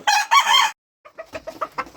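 Nine chickens, hens and rooster-like birds, are kept together in a cage on a cold winter morning. A rooster crows loudly and close, then after a pause several short, choppy clucks follow in quick succession.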